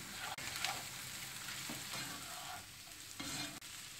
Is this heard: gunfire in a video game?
no